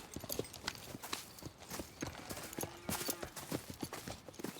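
Horse hooves clip-clop steadily in Red Dead Redemption 2, several animals walking with uneven overlapping beats, close and clear with no talk over them.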